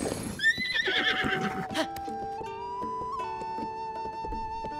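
A horse whinnies loudly in Zelda Tears of the Kingdom, a rising shrill neigh at the start, followed by sustained game music tones and a few soft hoof clops.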